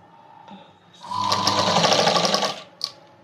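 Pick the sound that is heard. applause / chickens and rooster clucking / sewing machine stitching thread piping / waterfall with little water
sewing machine stitching thread piping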